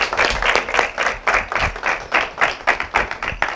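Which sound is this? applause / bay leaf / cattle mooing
applause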